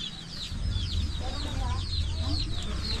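Hens cluck softly and chicks peep in a high, steady chatter on a rural hillside farm, with rustling and low background noise throughout.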